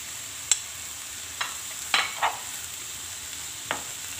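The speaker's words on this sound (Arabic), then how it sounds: "ونحركهم مع بعضياتهم" A spoon stirs a Moroccan filling in a pan, seasoned with tahmira, ground pepper, sekinjbir ginger, garlic powder and harissa: a few soft, scattered scrapes against the pan over a faint, steady background hiss, with no talk.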